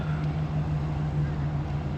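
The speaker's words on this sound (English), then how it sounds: "Just pumping it right out of the truck, right into the pond" Steady low drone of a pump pushing water from a tanker truck into a pond, continuous and even throughout, with a faint outdoor wash over it.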